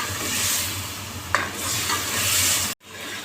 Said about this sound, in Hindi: अब ये मसाला खूब अच्छी तरह फ्राई हो गया है